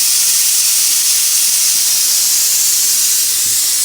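A kitchen pressure cooker vents steam after three whistles, producing a loud, steady, close hiss that fills the whole stretch without a break.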